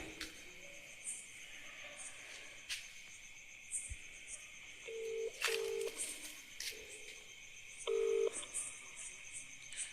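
A phone number being keyed in, heard as a few short, separate dialing tones with quiet gaps between them. A faint steady background hum runs underneath the whole time.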